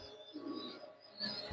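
Pigeons at a large teddy pigeon farm in Khulna coo softly and low in a continuous murmur, with faint higher chirps over a steady room hum.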